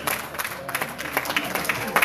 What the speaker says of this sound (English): I know that y'all was clapping because you didn't want to say amen